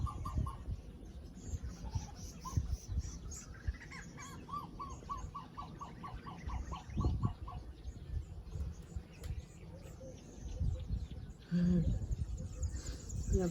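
Birds call from trees in the middle of a lagoon at Cape Coast, including a rooster-like crowing and repeated chirps and clucks, moderately distant, heard over outdoor background noise with people talking.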